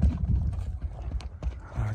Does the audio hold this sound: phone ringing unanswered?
no